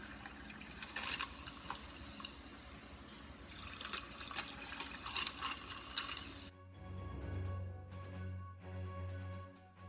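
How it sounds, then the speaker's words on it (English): Cold club soda pours over ice in mason jars, a continuous fizzing, splashing stream that gives way to quieter bubbling and trickling as the pour ends. "I'm going to pour in some cold club soda"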